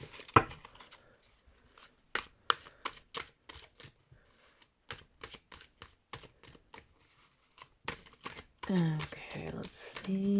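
A heavy oracle card deck being shuffled by hand, a long series of crisp, irregular riffling bursts separated by short pauses, close and clear, with a person speaking near the end.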